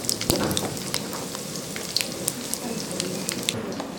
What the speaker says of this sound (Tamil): காஞ்ச மிளகாய் ஆட் பண்ணிக்கலாம்.